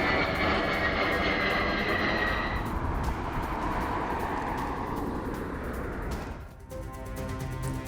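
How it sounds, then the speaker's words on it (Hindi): An American B-52H bomber lands at Al Udeid Air Base in Qatar, a loud continuous jet roar that swells and fades slightly as the aircraft passes, with no speech. "कतर के अल उदीद एयरबेस पर उतरा अमेरिकी बॉम्बर"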